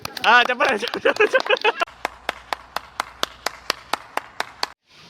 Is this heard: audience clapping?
yes